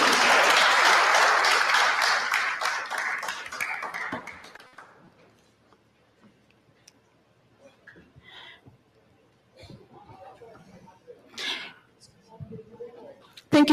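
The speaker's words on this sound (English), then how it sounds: "Let's give him a round of applause," Audience applause from a seated crowd at a talk or panel event, loud clapping that fades away over several seconds, followed by near quiet with scattered small sounds and a voice returning.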